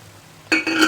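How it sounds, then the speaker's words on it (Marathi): Water splashes into a hot pan of soya chilli over a full flame, bursting into a sudden loud sizzle after a quiet moment, then a second hiss a beat later. "थोडंसं पाणी घालायचं आहे अजून."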